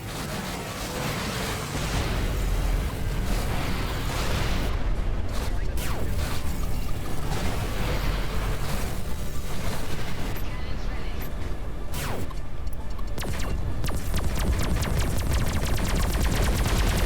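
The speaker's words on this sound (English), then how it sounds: "this thing has got some kind of a weird bonus that is throwing an extra missile at what I'm shooting at" Spaceship weapons fire nonstop in the space combat game Everspace 2, with dense bursts of shots, missile launches and explosions layered into a loud, continuous barrage with sharp cracks standing out.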